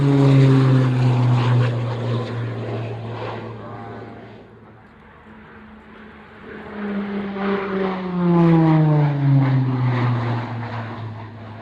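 An Embraer Tucano turboprop takes off at the Royal International Air Tattoo airshow, its propeller drone loud and close, with a strong engine tone rising, dipping briefly, then surging again as it climbs away.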